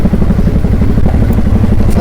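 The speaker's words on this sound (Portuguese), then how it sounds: "Vim dar uma volta de moto" Motorcycle engine running under load while riding, a loud close throbbing drone with a fast regular pulse and steady rumble throughout, with no talking.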